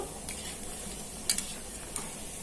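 Dried vadiyalu fry in hot oil on a stove at medium heat with a steady, hissing sizzle, and a few sharp clicks of a utensil against the pan break through near the middle.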